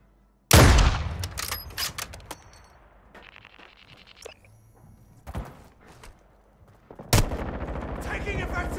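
Gunfire in the Modern Warfare II video game on PS5, Plunder mode: loud bursts of shots and explosive impacts, with scattered cracks and clanks between heavy volleys at the start and end.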